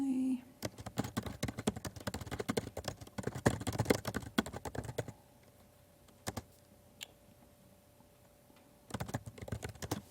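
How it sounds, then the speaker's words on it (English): Rapid clattering keystrokes on a computer keyboard, close and fairly loud, come in dense bursts of typing separated by a quiet pause and a couple of isolated clicks. "I'm just going to type different words."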